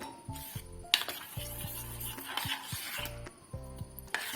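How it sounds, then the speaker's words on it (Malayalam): A spoon stirs appam batter in a container, making intermittent scraping and clinking knocks against the vessel under a faint background tone, with no speech. "എന്നിട്ട് നല്ലവണ്ണം ഇളക്കി അടച്ചു വെക്കുക"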